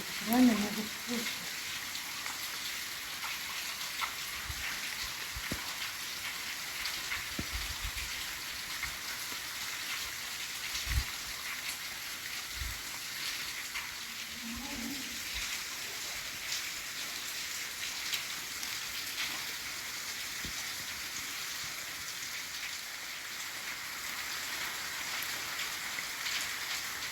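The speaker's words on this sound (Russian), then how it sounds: "Дождик так и идет, вон видно по озеру." Steady rain falling over a lake outdoors, a soft continuous hiss with scattered drips, faint and even throughout, with a brief voice at the start.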